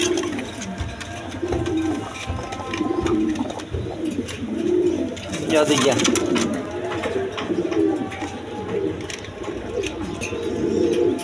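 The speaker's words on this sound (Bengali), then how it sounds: "দর্শকবৃন্দ এখানে এক পেয়ার কবুতর আছে, ডিম নিয়ে বসে রয়েছে।" A nesting pair of pigeons sitting on eggs coo in a steady, repeating low rhythm close by, with occasional faint chirps and rustling around them and no talking.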